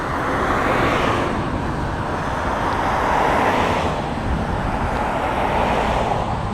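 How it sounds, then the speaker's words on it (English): Cars pass by on a road next to the grounds of the former Norwich Hospital, a loud continuous roadway wash that swells and fades as vehicles go by, with no talk. "I'm just waiting for some of these cars to go by. It's kind of noisy."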